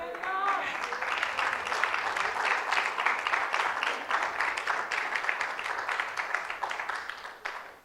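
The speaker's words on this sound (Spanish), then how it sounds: "dele palmas al Señor" A church congregation at an Easter Sunday service claps for the Lord: dense, sustained applause from many hands, steady and fairly loud throughout, with a brief voice at the very start.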